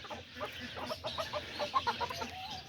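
An Aztecas chicken clucks softly in a quick run of short, bright notes, fairly close against a quiet farmyard background.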